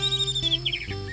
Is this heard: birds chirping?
yes